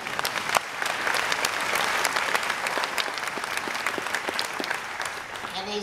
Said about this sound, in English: I'll clap for that even now.